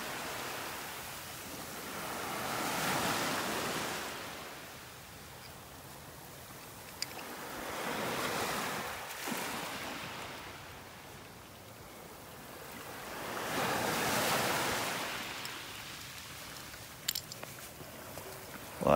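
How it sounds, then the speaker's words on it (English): Gulf of Mexico surf at a Florida beach strewn with scallop and conch shells rolls in three slow swells, each wave rising, washing over the sand and drawing back, with no voices. "you can see the waves are starting to pull the shells back into the water"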